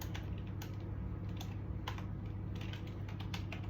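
Short burst of computer keyboard typing as a command is entered, a handful of close key clicks over a constant low fan hum.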